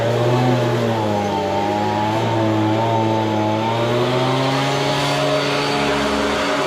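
A Ford F100 truck with a swapped-in Crown Victoria engine runs nearby with a steady, loud, even engine drone and a slight rise in pitch, with no talking.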